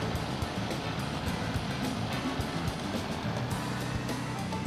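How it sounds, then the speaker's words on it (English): SP-30 aircraft engine warming up at 2500 rpm in the X-Plane 11 flight simulator, a steady dense drone with a rough pulsing rumble, constant and loud with no voices. "Continue warming up the engine on 2500 rpm"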